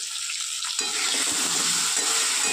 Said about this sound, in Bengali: তো এবার আলুটাকে খুব ভালো করে ভেজে নেব।